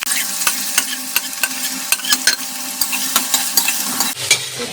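Chopped onions frying in hot mustard oil in a kadai with cardamom, a loud, crackling sizzle broken by regular sharp spatula scrapes and taps, close up with no talking.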